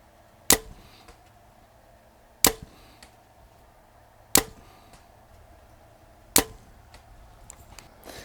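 Arrows shot from a Mathews Lift compound bow, four sharp cracks spaced about two seconds apart, each with a brief ringing tail, close and clear in a quiet outdoor setting.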